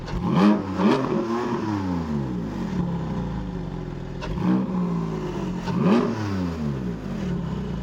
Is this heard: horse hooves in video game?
no